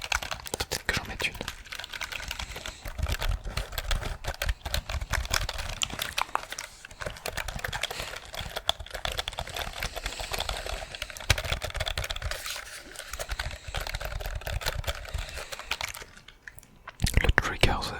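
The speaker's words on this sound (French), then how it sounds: "On est d'accord qu'on a tous déjà été relaxés par un clavier mécanique" Mechanical keyboard keys typed in a steady, close ASMR-style clatter of dense crisp clicks, continuous throughout with brief pauses near the end, with no talking.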